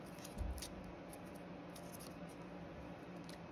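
Scissors snip a craft piece for Barbie doll furniture, a few faint, close clicks and cuts near the start, then quiet rustling.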